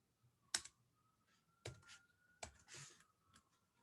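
An equation is typed on a computer keyboard in a quiet room, a few sparse, crisp key clicks in short bursts separated by pauses, close and fairly faint.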